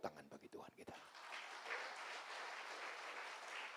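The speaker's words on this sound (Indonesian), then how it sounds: "Tepuk tangan bagi Tuhan kita." A church congregation applauds for God during a sermon, the clapping rising after a brief spoken phrase at the start and then holding as a steady, moderately distant wash of many hands.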